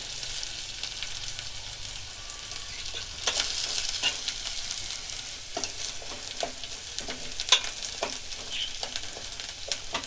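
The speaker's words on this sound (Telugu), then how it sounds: "ఈ విధంగా దోరగా వేగుతూ ఉంది" Garlic and tempering spices fry in hot oil in a pan over medium heat, a soft continuous sizzle with light scraping and stirring clicks from a utensil, close and fairly quiet.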